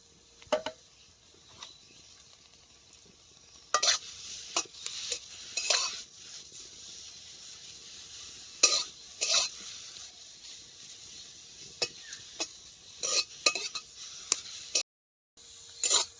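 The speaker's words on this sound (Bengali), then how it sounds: "তারপরে এই পাতাগুলো কড়াই দিয়ে" A metal spatula scrapes and clinks against a pan while stirring gourd leaves, close by and fairly quiet, with brief pauses between the stirs.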